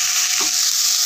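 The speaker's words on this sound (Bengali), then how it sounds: "হালকা ভেজে নেবো সব দিয়ে।" Chopped capsicum and carrot lightly frying in a pan, a brief, loud, even sizzle with a faint stir in the middle.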